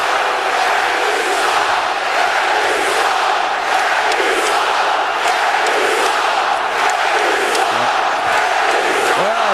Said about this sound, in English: this crowd didn't like it at all